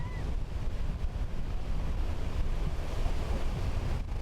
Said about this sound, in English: It's rough, it's windy, but they're still going out there, and this is going to be a very tough swim indeed